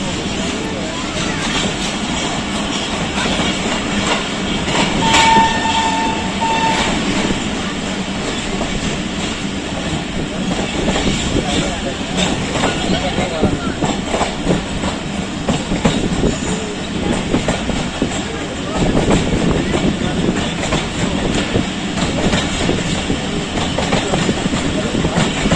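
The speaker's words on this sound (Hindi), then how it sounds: "अब शाह हुसैन एक्सप्रेस लाहौर जंक्शन पहुंच रही है।" Shah Hussain Express passenger train rolling slowly on Pakistan Railways track near Lahore Junction, with a steady loud rumble of wheels and car bodies, faint rhythmic clatter, and a brief tone partway through.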